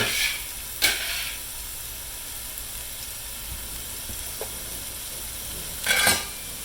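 Beef tips sauteing in a pan make a steady soft sizzle throughout, with a few louder bursts of hiss and stirring noise near the start and end.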